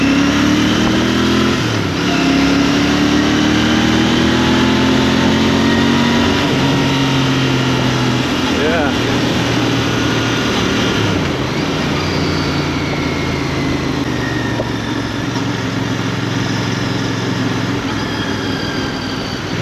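A Royal Enfield Bear motorcycle engine drones loud and close on a test ride, rising and dipping in pitch through gear changes, with wind rush throughout.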